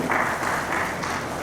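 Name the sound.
audience applause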